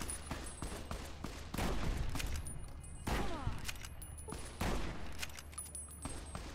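Gunfire in the video game Fallout: New Vegas: a series of sharp shots cracks out in uneven bursts, several spaced a second or so apart, with reverberant tails between them and no talking.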